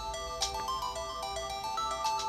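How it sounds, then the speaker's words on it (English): An incoming phone call's ringtone plays as a bright electronic melody of sustained tones with a few sharper accents, steady and moderately loud with no talking. "There's another phone call."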